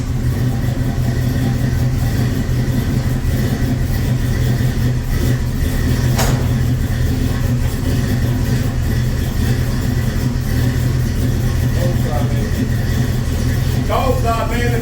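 Truck engine cold-starting, a steady loud low rumble running throughout at close range, with a sharp brief burst near the middle and some faint voice sounds toward the end.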